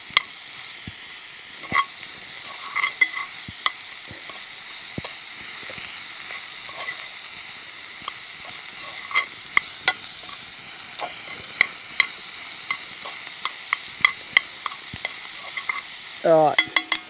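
Food frying in a pan over an open campfire in the bush, stirred with scraping clinks and knocks over a steady sizzling hiss, close up.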